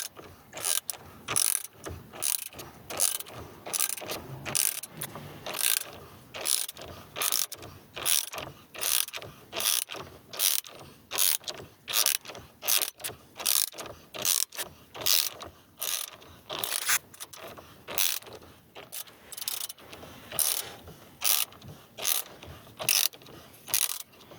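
A ratchet wrench tightens a bolt clockwise during airbag removal on a Citroën C3 PureTech, giving quick bursts of sharp metallic clicks in a steady rhythm, close and fairly quiet, with no talking.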